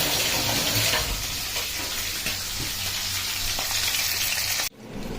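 Mackerel fillets frying in oil in a pan give a steady, loud sizzle that runs unbroken, then cuts off abruptly near the end.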